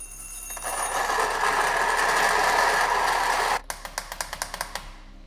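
A Lagom 01 grinder with SSB brewing burrs grinds coffee at a coarse setting, a loud steady motor whir lasting several seconds before cutting off, followed by a quick run of sharp rhythmic knocks.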